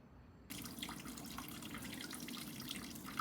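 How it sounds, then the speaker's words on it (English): Old, foul-smelling gasoline drains from a motorcycle tank through tubes fitted to the petcocks, a steady liquid trickle and splash that starts abruptly and runs on continuously, close and fairly quiet. "I'm draining out the old dead gas."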